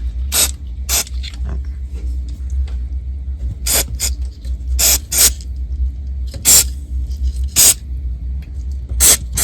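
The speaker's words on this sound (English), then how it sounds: "I'm going to spray this out with the contact cleaner" Short, sharp hissing bursts of contact cleaner spray repeat irregularly at close range inside an American Bosch 660T antique radio, over a low steady hum, with no talking.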